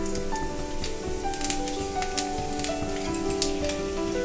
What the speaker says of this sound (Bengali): সর্ষের তেল দিয়ে দিলাম, অল্প চিনি দিলাম, দুটো শুকনো লঙ্কা, একটা তেজপাতা, পাঁচ ফোড়ন